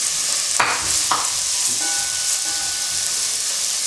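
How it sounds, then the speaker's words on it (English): Mixed vegetables cooking in a pan, with a steady close sizzle and a couple of sharp scraping stirs near the start, with no voices. "Now I'll add the mixed veggies."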